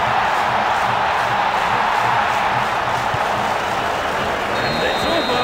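A stadium crowd cheers in the EA Sports Rugby 08 video game, a steady loud roar of massed voices that holds through the whole stretch, with a commentator speaking over it.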